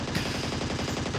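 Rapid automatic gunfire from PUBG Mobile (Battlegrounds Mobile India) rattles in a fast, even burst of shots, loud and close, alone without talk.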